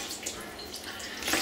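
Cold water runs steadily into a pot for cooking sushi rice, a close, continuous hissing splash lasting a moment and growing slightly louder at the end.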